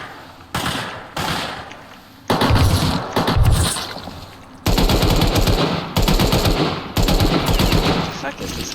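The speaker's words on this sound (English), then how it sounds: "I'm getting shot at." Loud automatic gunfire rattles in repeated bursts in the video game Rust, several close rapid-fire volleys separated by brief pauses, with voices speaking in between.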